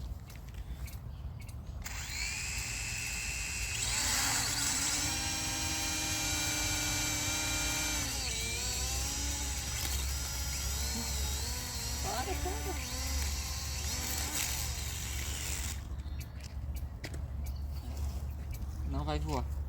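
Electric motors on a homemade fire-detection drone whine loudly and steadily for about fifteen seconds, wavering in pitch, while people talk nearby.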